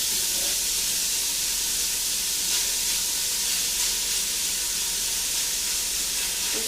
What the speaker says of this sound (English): I'm going to just add my bacon, fry it for a few minutes